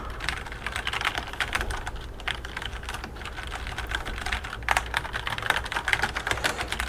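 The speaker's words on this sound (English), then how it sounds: "These are brown Cherry MX switches." Rapid, steady typing on a WASD keyboard fitted with brown Cherry MX switches on a steel plate, a dense run of close, crisp keystrokes throughout with no talking.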